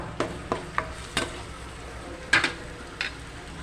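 A paste of onion, tomato and cumin fries in a pan, soft sizzling broken by a handful of spatula scrapes and taps spaced apart, near and fairly quiet, with no voices.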